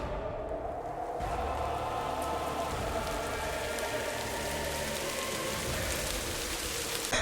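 Light rain falls steadily under thick cloud and rising wind, a soft, even patter of drops on surfaces that holds at a constant level from start to finish.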